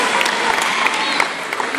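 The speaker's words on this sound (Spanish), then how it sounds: "El aplauso para Lucas, una nueva promesa de este fútbol argentino" Steady applause from an audience at an amateur boxing night in Argentina, a dense even patter of clapping with scattered louder claps, held throughout without a break.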